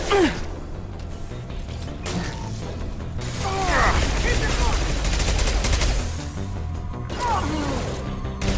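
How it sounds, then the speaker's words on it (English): A high impact shot fired in the video game Mass Effect 2, sharp gunfire bursts and mechanical clatter amid ongoing combat noise, with swooping effects and a brief vocal gasp. "Firing a high impact shot."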